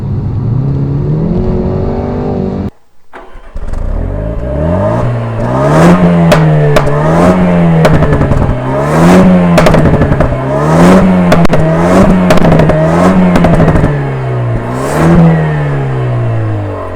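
A Jaguar F-Type P300 with a 2.0-litre turbo four and eight-speed ZF automatic accelerates hard, its loud engine note climbing and dropping through several rapid gear changes after a brief pause near the start.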